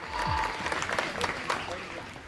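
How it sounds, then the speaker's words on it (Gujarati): Audience clapping for a team of volunteers at a cow-shelter honour ceremony, a short burst of dense applause with crowd noise throughout. "ખૂબ બધી તાળીઓથી આ સ્વયંસેવકોની ટીમને વધાવો"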